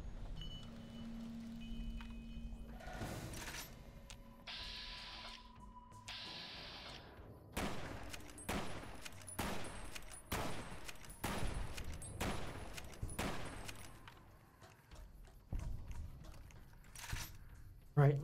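Hollow point rounds fired in Fallout New Vegas: a series of about eight evenly spaced, punchy shots follows quieter game sounds, with a voice speaking at times.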